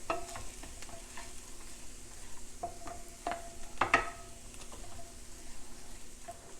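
Brown rice cooking in butter in a pan gives a low, steady frying sizzle with scattered stirring scrapes and clinks, one louder clatter near the middle, with no talking.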